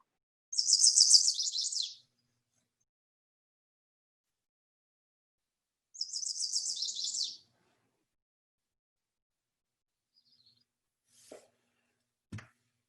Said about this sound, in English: Here's what the chestnut-sided warbler sounds like.